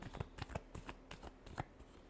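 Tarot cards being shuffled by hand, a quick run of soft, riffling flutters and light taps in a short burst, faint and close with no voice over it.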